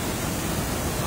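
A mountain stream at Suối Vàng on Tà Lơn mountain gives a brief, steady, fairly loud rushing wash of water with no gaps.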